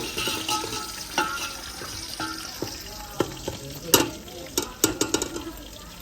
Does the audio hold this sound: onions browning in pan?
yes